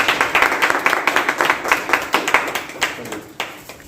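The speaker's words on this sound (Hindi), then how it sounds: "सब लोग ताली बजाइए।" An audience claps in a Hindi-language reasoning class, a loud, brisk run of hand claps in quick, fairly even rhythm that thins out toward the end, with some voices mixed in.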